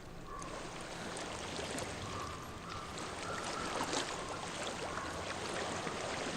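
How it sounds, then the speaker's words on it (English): Water rushes and washes steadily in a broad, continuous hiss, with faint higher tones drifting over it and no talking, in the video game Hellblade: Senua's Sacrifice. "I hear water."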